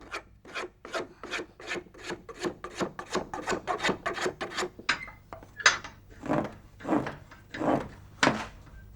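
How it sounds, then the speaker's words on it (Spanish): Rhythmic rasping strokes of a rasp and knife finishing a handmade boxwood spoon, about twenty close, even scrapes in steady succession, slowing toward the end with a few wider, slower passes. "Un repaso más minucioso con la cuchilla de trascollar y la raspa prepara las piezas para la fase siguiente."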